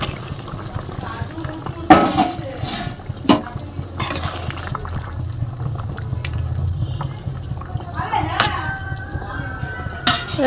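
Hilsa fish pieces go into a boiling broth with green banana. Close splashes and bubbling come with a few sharp utensil knocks against the pot.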